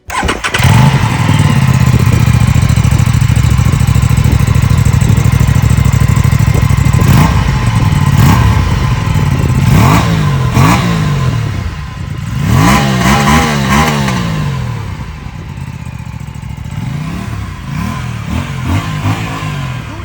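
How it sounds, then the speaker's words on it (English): An Aprilia RS 457 motorcycle engine breathes through a 2-in-1 underbelly exhaust, idling loudly and steadily, then revved in repeated rising and falling blips, close and alone. "Let's have a listen to the 2-in-1 underbelly exhaust sound of this beauty."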